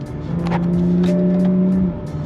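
A BMW M235i engine with a stage 2 upgrade drones steadily at a fairly loud level while driving, holding a low tone for a couple of seconds before easing off.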